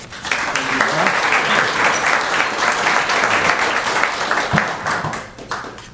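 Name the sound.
audience applause welcoming a speaker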